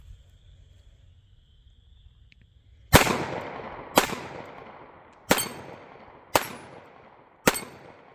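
Five sharp, loud pistol shots from a Ruger LCP Max .380 fired at targets, spaced about a second apart, each with a short ringing decay, after a few seconds of quiet outdoor ambience.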